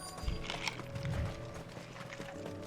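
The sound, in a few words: horse hooves in video game Final Fantasy XVI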